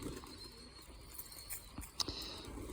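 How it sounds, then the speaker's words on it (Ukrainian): Pigeons cooing while bathing in a loft, soft low coos with faint splashes and patter nearby, quiet and continuous without speech. "І ті голуби чудово купаються."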